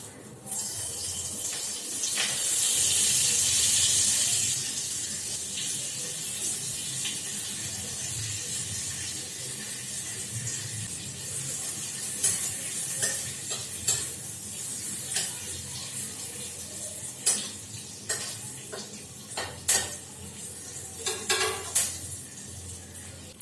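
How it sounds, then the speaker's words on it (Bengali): Curry leaves dropped into hot oil with a little turmeric flare into a loud hissing spit that settles into a softer sizzle, followed by several sharp clinks of a utensil against the pan. "এবার কারি পাতাগুলো দেবো"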